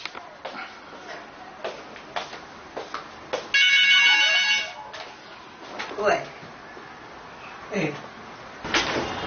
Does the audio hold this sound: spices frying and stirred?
no